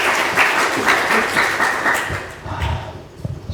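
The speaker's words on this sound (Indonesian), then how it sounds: "Kasih tepuk tangan yang meriah untuk Tuhan." Enthusiastic applause from a church congregation during a Good Friday sermon, loud sustained clapping that fades toward the end, with a few thumps.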